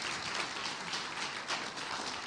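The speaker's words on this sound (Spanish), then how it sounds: "Denle un aplauso al Rey bendito." Steady, dense applause from a congregation at a church service, a continuous even wash of clapping that stays loud throughout, with no voices over it.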